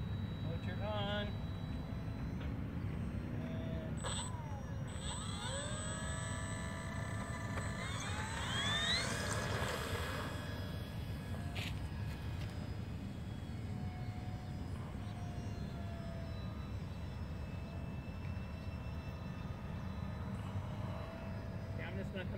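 Electric motor of an E-flite Spitfire RC model plane whines in flight on its maiden outing, rising and sweeping in pitch as it passes overhead mid-clip, then fading to a faint drone over steady outdoor background.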